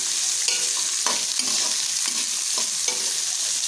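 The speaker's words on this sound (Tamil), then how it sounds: "வெங்காயம் நல்லா வதங்கணும்." Onions and spices sizzle and fry in a pan for mushroom biryani, a steady close hiss with repeated stirring scrapes every half second or so, no talking.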